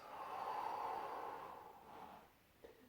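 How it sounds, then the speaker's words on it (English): A single long exhale during a Pilates exercise, a soft breathy rush that fades out over a couple of seconds, close and quiet. "and breathing out."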